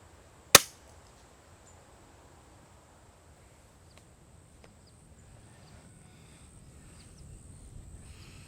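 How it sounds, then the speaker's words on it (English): A single sharp, muffled pop of a moderated Weihrauch HW 44 .177 air pistol shot near the start, followed by quiet background with faint insect buzz. "this is one of the quietest air guns I have ever shot"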